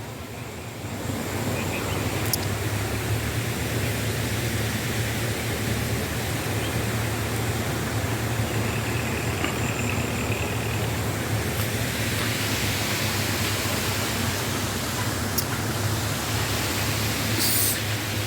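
Irrigation water released into the Satnala canal rushes in a steady, even roar that holds unbroken and fairly loud from start to finish.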